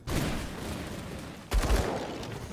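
A bomb explodes in the dark fantasy action game Grim Dawn, a loud booming blast with a rumbling tail and a second heavy impact about halfway through, dense and close, with no talk over it.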